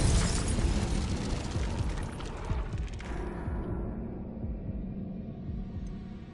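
Incendio fire spell explosion in a Harry Potter video game, a loud, roaring burst that fills the opening seconds and then thins into a fading rumble and crackle.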